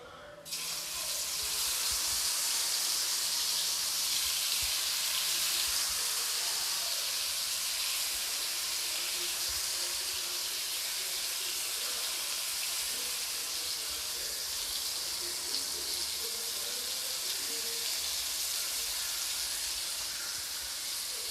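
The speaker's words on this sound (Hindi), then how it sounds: "तेल जब गर्म हो जाए तब मैं डाल दूँगी इन सभी भिंडी को" Okra (bhindi) being fried in hot mustard oil in a home kitchen, giving a steady, loud sizzling hiss that runs unbroken and close for the whole stretch with no talking.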